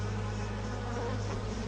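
Solitary bees buzzing in flight in a garden, a loud, close, continuous drone with a steady pitch and no other sound.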